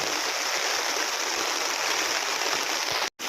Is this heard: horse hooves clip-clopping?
no